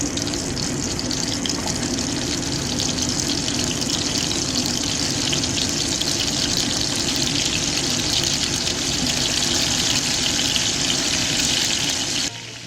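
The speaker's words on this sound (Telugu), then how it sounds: "ఈ రొయ్యల్ని రెండు వైపులా తిప్పుకుంటూ నూనెలో బాగా ఫ్రై చేసుకోవాలి" Prawns fry in hot oil in a kadai, giving a loud, steady, unbroken sizzle that holds evenly throughout before dropping slightly at the very end.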